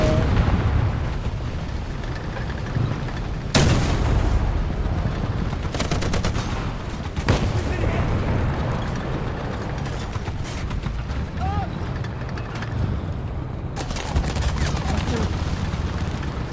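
Gunshots ring out in loud, sharp bursts: several single cracks and clustered volleys spread across the stretch, close by, with mechanical clatter between them and shouting voices now and then.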